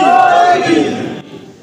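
A crowd at a religious sermon gathering loudly shouts slogans in unison, in answer to a call. The roar is strong at first, then drops away sharply and trails off.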